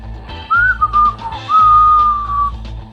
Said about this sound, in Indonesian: Terdengar suara siulan